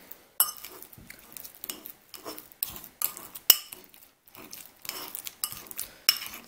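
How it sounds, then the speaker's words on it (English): A fork mashes soft fruit for a fruit fly culture, making a run of irregular clinks and scrapes against the dish, close and moderately loud, with brief pauses between strokes and no talking. "Now you can use the spoon to mash it, but it's much easier with the fork."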